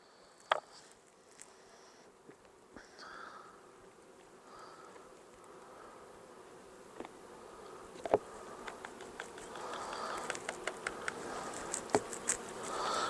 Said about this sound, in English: See, there's a lot of bees there.